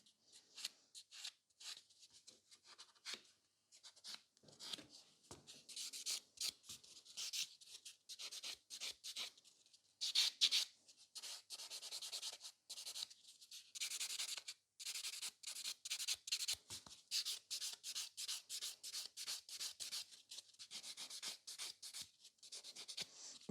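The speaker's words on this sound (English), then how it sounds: "keep buffing till you're happy." Fiber gel nails are buffed by hand in quick, soft scratchy strokes that come in uneven bursts with brief pauses, close and fairly quiet, with no voices.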